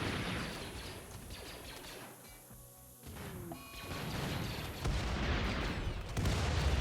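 Heavy uranium slug turrets fire in a RimWorld Star Wars clones-versus-droids battle, a dense run of gunfire and crashing impacts that drops back briefly mid-clip before swelling loud again, with no talking.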